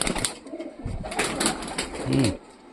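Small Punjabi pigeons held in the hand give soft, low repeated coos close by, with rustling and handling noise around them.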